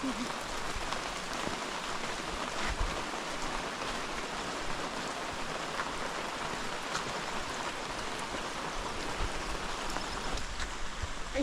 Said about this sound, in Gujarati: મિત્રો સરસ મજાનો વરસાદ પડે છે ને જંગલમાં નીકળ્યા છીએ